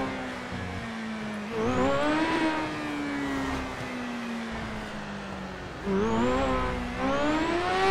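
Car engines in a GTA roleplay game, two vehicles roaring past with rising and falling revs and a steady engine drone between the passes.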